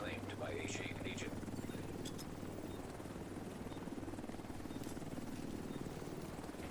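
An extraction helicopter in The Division 2 hovers on site, its rotor giving a steady droning thrum throughout. Game voice cues and chatter sound over it.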